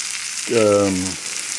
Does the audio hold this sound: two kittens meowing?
no